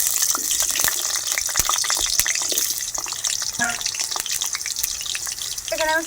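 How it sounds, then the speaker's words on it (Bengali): Potato pieces frying in hot oil in a pan for a home-cooked chicken curry, with a steady, loud broadband sizzle throughout, scattered crackles and pops, and a few faint clinks near the end. "আলুগুলো ভেজে নেব।"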